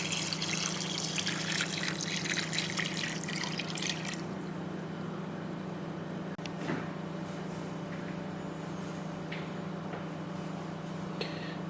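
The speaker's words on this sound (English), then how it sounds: "And now we'll add the water." Water poured into a pot for Swedish split pea soup with pork, a steady trickling stream in the first few seconds that settles into a quieter, continuous liquid fill with faint drips.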